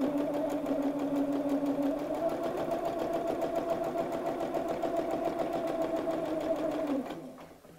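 A sewing machine runs a steady tacking stitch along the last side of a craft mat bag, a continuous mechanical whir with a rapid even rhythm, close and alone for about seven seconds before stopping abruptly.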